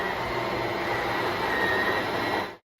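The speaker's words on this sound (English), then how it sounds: "I want you to hear what those sounds like when those cables get tension on them." A steady mechanical whir with a faint rising whine as an RV slide-out's cables take up tension, continuous for a couple of seconds before stopping abruptly.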